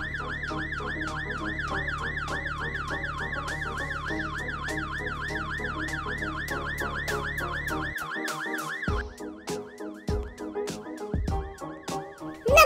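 A wailing ambulance siren from a Roblox video game sounds loud and steady, sweeping up and down in regular cycles, then breaks into choppier bursts toward the end.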